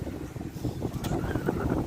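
Strong gust of wind during a bike ride around town, a loud rumbling buffet battering the microphone that swells and stays heavy, with no voices.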